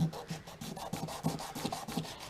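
Hard plastic being roughed up before gluing, a close rhythmic scraping and rubbing of quick repeated strokes with no voices.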